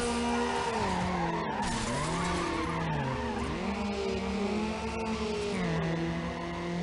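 A racing car in Need for Speed Underground, running against Mazda Miatas, skids and gets hit, with a loud continuous engine drone whose pitch swoops up and down under long tire squeal.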